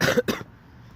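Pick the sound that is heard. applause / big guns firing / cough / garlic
cough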